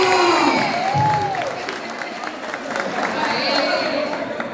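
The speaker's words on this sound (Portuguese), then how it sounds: "Aê, uma salva de palmas." An audience at a talk about saving a marriage breaks into applause, a dense wash of clapping that carries through the whole moment, with voices and cheering mixed in.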